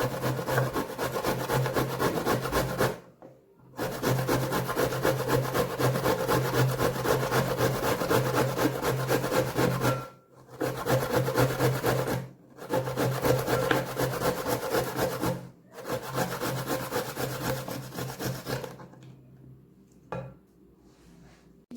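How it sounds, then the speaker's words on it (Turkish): Unpeeled zucchini is rubbed hard against a box grater in long continuous rasping runs, loud and close, broken by a few brief pauses before it trails off at the end. "Öncelikle kabaklarımızı rendeleyeceğiz."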